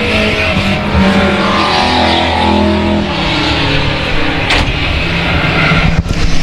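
Race cars roar past on a track as two leaders close on a slower car, loud continuous engine drone with tire squeal and shifting pitch as they pass nearby.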